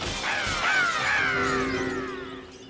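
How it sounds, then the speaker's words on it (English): Ninja imp sound effects from the video game Grabbed by the Ghoulies: a short cartoonish swooping vocal cry with sliding pitch, then a brief sustained tone fading out. "the ninja imps sound like this"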